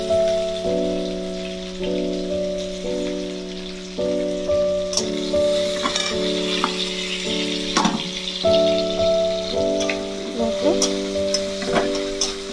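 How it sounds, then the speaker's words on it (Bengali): Chopped onion and garlic frying in oil for a methi shak dish, a steady close sizzle with occasional stirring scrapes, under background music. "পেঁয়াজ রসুন সব একসাথে সুন্দর করে ভেজে নিতে হবে"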